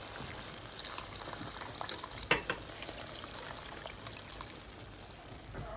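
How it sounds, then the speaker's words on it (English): Cooking water from boiled pumpkin is poured into a pot of rice for Jamaican-style seasoned rice. It makes a steady, continuous splashing pour with a small burst partway through. "I am going to use the water from the pumpkin."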